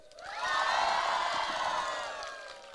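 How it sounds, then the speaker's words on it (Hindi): A church congregation shouts and cheers loudly all together on a count of three, a sustained roar of many voices that swells quickly and holds for a couple of seconds before easing off. "एट द काउंट ऑफ 3 जोर से चिल्लाना है"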